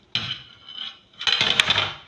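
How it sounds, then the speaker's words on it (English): Food is rubbed against a hand grater for a drink recipe, making two short, scratchy rasping strokes close up with a brief pause between them. "I'm going to use this grater and grate it"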